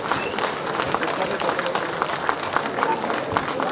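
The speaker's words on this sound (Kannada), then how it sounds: "ಚಪ್ಪಾಳೆ ಹೊಡೆದ್ರ ಮುಖಾಂತರ ಅದನ್ನ ಸ್ವಾಗತ" A crowd at a golden jubilee inauguration in Bengaluru with the chief minister present gives a sustained round of applause, a dense patter of many hands clapping at middling distance, with voices murmuring underneath.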